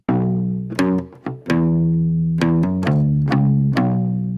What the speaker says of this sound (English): And I've got this guitar